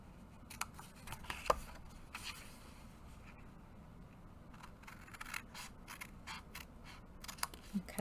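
Scissors snip away the corners of a paper card for a birthday box card, giving quiet, close, irregular cuts and rustles spread through a soft background.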